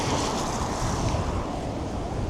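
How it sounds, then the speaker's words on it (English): Strong wind blows outdoors on a cold day, a loud, dense rushing roar buffeting the microphone continuously with no speech. "it's windy as fuck and my toesies are freezing right now"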